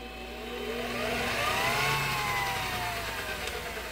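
A mini lathe fitted with a 3:1 belt reduction runs in high gear. Its motor gives a steady, close whirring whine that swells slightly and then holds at an even level throughout.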